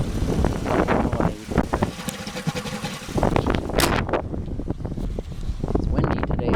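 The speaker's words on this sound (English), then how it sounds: "It's windy today." Gusty wind blows outdoors at night, buffeting the microphone in loud irregular rumbling bursts that rise and fall throughout.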